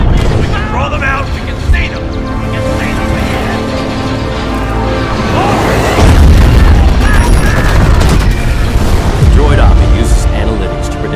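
Bombs explode in a Star Wars fan-film battle, deep booms and rumbling blasts rolling on continuously and loudly beneath shouted voices and dense battle noise.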